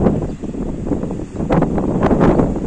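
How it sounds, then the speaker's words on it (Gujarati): Strong gusty wind blows outdoors under cloudy skies, buffeting the microphone with a loud, continuous rumble that swells in stronger gusts. No voices are heard. "પવન પણ બહુ છે"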